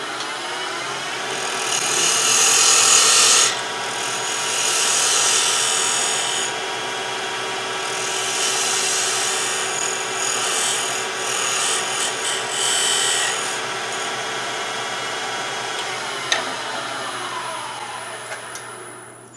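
A wood lathe cuts the shoulder of a turned lidded box, a steady loud whirring scrape that holds for about twenty seconds, eases slightly midway and ends with a brief tick, with no voices.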